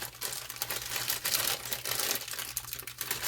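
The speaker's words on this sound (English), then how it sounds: "Grab a pair of scissors here to open my bag up with." A plastic bag crinkles and rustles close by as scissors cut it open in a home kitchen while potatoes are prepared, a soft continuous crackle with uneven bursts and no talking.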